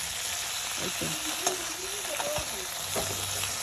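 Pangas fish paturi frying in a little oil in a pan, a steady close sizzle with scattered soft scrapes and taps as the pieces are turned over.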